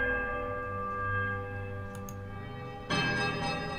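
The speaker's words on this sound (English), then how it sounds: "There's a quiet melodic chime from all 3 bells before their discordant voices meet in one powerful rise and rush of sound." Three temple bells in the video game Pillars of Eternity chime softly together with a sustained ringing tone, then a louder, brighter surge of clashing bell sound swells in near the end.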